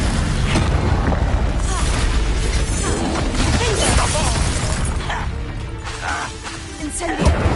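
Confringo blasting spell detonating during a Hogwarts Legacy duel, a loud, sustained rumbling explosion with crashing debris and heavy low boom, combat voices mixed underneath.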